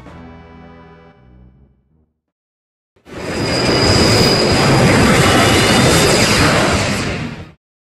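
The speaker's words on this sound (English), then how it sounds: "The Phantom Train has made a lot of cameos in other Final Fantasy titles" The Phantom Train from a Final Fantasy game roars in after a short melodic passage and a brief silence, a loud sustained rumbling rush with a thin whistle-like tone riding on top, then cutting off abruptly.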